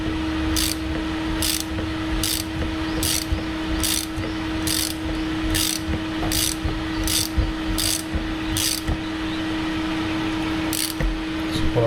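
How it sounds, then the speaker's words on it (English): Rhythmic clicking of a ratchet wrench loosening a nut on a Yamaha WR450F motorcycle fork, about a dozen evenly spaced bursts close up over a steady hum. "A little bigger ratchet."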